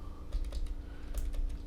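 Quick keystrokes on a computer keyboard as a folder name is typed, a short burst of clicks close up with a steady low hum underneath and no talking.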